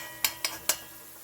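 Butter beans and saltfish in a pot: three short, bright crackles of sizzling and light clinks, close by, over a faint steady hiss.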